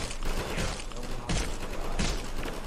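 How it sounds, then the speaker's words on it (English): Automated turrets firing in Garry's Mod, a steady stream of rapid shots with a few heavier thumps standing out among the fire. "Now it immediately starts shooting. I don't know who's winning, but I think the turrets are superior."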